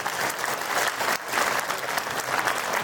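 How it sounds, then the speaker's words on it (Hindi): An audience claps steadily at a school annual function, the dense, even applause filling the hall for a few seconds with a brief dip partway through. "तो फिर एक बार ताली और बजा दीजिए।"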